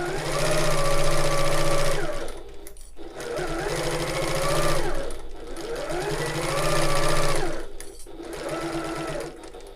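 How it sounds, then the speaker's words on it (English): Sewing machine stitching a tote bag seam, with a steady motor whir in three long runs, each stopping briefly at a pivot before resuming, close and fairly loud. "Sewing down as far as that angle, pivoting and to the bottom edge and back stitch"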